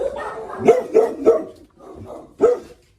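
Dogs bark in an animal shelter storage warehouse: four or five sharp, close barks in an uneven rhythm, with softer whimpering and yips between them.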